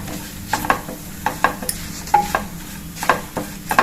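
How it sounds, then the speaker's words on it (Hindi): Spices and turmeric are stir-roasted in a pan for matar paneer on low heat, with a spoon scraping and clinking in a steady rhythm of sharp taps over a soft sizzle, close and without talk. "हल्दी, सभी मसाले अच्छी तरह से भून लेंगे।"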